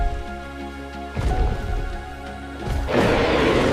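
Rain pours down in a prehistoric landscape, a steady hiss that swells louder and brighter toward the end, with low rumbling tones beneath in the first part.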